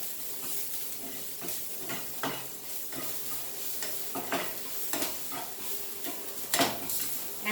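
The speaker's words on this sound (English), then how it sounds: "Fry this nicely" Masala egg burji with turmeric frying in a pan while a spatula stirs and scrapes: a steady soft sizzle broken by repeated clinks and scrapes against the metal, close and moderately quiet, with no talking.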